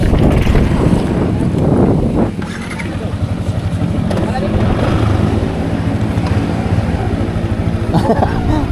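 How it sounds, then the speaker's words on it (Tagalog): Strong wind with rain roars and buffets the microphone in a steady, loud rush, with voices talking underneath and brief gaps in the gusts. "Ang lakas na ng hangin."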